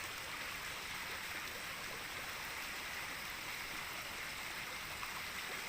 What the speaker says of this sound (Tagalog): Pero yan pero ang lakas ng agos.